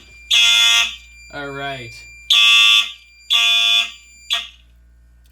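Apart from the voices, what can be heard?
fire alarm set off by pull station in system test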